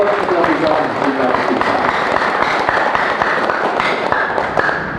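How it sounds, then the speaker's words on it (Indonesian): Audience applauds warmly after village head election candidates present their vision and programs at a public gathering in Waung, Tulungagung, a dense, steady clapping wash with crowd noise throughout. "beri tepuk tangan yang meriah buat kedua kalau kita bisa"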